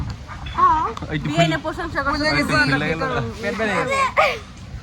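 A flock of ducks at a rural home quacks in a dense, busy chorus of overlapping calls, loud and close throughout.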